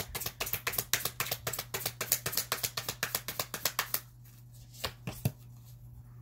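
Tarot cards are handled in a rapid, steady run of crisp, close slaps and riffles for about four seconds, then a few scattered single taps, with a low steady hum underneath.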